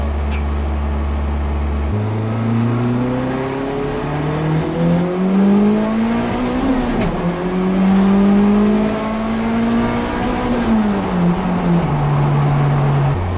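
A modified Honda Civic's engine accelerates hard through several gears, the pitch climbing, dropping at each shift, then climbing again, loud and close.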